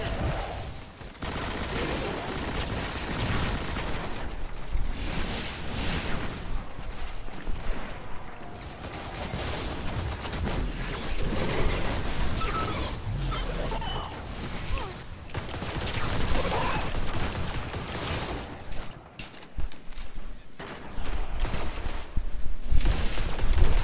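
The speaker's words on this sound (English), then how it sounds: "Legendary machine gun, high rate of fire" Rapid automatic fire from a legendary high-rate-of-fire machine gun in a sci-fi shooter video game, dense and continuous bursts with crashing impacts filling the whole stretch, loud throughout with brief dips.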